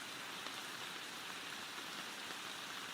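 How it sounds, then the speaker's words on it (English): Steady rain falls in the woods in a visual novel game, a continuous soft hiss of drops on leaves with no breaks or other sounds. "The pitter-patter of the raindrops rest on the leaves and fall towards the ground."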